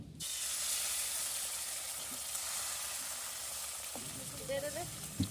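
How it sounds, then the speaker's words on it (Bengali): Beaten egg mixture goes into hot oil in a wok for egg paratha, producing a sudden loud sizzle that settles into a steady hiss, then a few clinks and scraping stirs near the end. No one speaks. "তেলটা একটু হলে দিয়ে দিব কিছুটা ডিমের মিশ্রণ"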